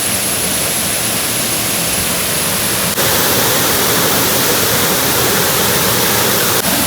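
A waterfall in Thrissur roars as a loud, steady wash of broadband noise, unbroken and close for the whole stretch with no voices.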